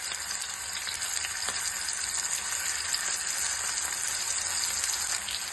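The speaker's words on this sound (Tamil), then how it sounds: "இப்போது நம்ம ஊற வச்சுருக்கோம் இல்லையா, அந்த வாழைக்காய் ஸ்லைஸை ஒன்று ஒன்றா இதில் போடுவோம்." Soaked raw banana slices fry in hot oil, giving a steady, close sizzle with faint crackles and pops throughout and no voices.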